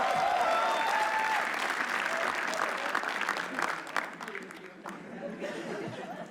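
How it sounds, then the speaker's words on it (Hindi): Audience in an auditorium at a comedy roast applauds loudly and steadily, a dense wash of clapping with some cheering and laughter mixed in, tapering slightly toward the end. "इनको भी पता चले कि तालियों की आवाज कैसी होती है"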